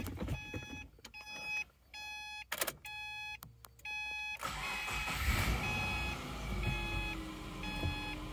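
Repeated chiming beeps from a Subaru Impreza dashboard, then the engine cranks and catches on a newly programmed key, settling into a low running rumble as the chimes continue.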